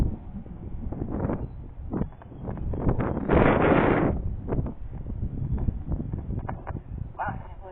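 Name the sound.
strong wind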